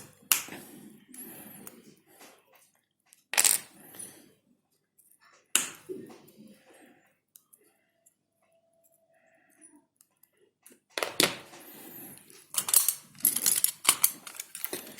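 Side cutters snip the leg pins of an Arduino Nano circuit board, producing several sharp, close clicks and snaps separated by quiet pauses, with a denser cluster of snips near the end.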